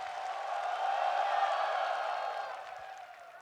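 Crowd at a CAC 2023 CS esports arena match between FaZe and ENCE cheers and claps during a technical pause, a broad, distant swelling roar that peaks and slowly fades over a few seconds.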